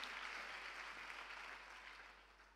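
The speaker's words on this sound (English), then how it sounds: "Clap your hands, you" A congregation claps hands during a church sermon, a steady, fairly faint wash of many claps heard from a distance, continuous and slowly fading.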